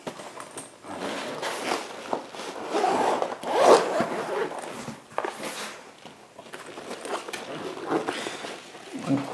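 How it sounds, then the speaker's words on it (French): Unboxing a motorised camera slider: close-up rustling, scraping and zipper-like rips of packaging and cases, in uneven bursts with quiet gaps between. "maintenant on va commencer par déballer le slider"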